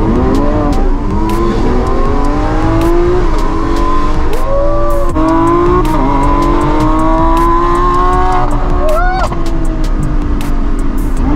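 A Lamborghini supercar, an SVJ or Super Trofeo Stradale, revs its engine hard as it accelerates, loud and close throughout, with rising and falling pitch sweeps as it shifts, plus a brief tire squeal.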